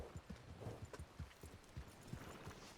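Horse hooves clip-clopping at a steady walking rhythm in the Western role-play game RedM, a string of soft low thuds close by with no talk over them.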